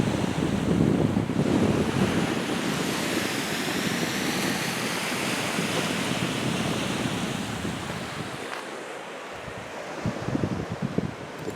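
Sea waves wash continuously onto the beach at Barry Island at high tide, a broad roaring surf mixed with gusting wind buffeting the microphone, steady and fairly loud throughout.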